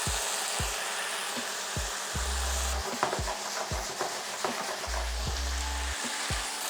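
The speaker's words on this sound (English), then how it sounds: "So I'm going to go in now with my bean sprouts." Bean sprouts go into a hot pan of chicken stir-fry and sizzle steadily, while a utensil knocks and scrapes in a quick, regular rhythm close by. Nobody speaks.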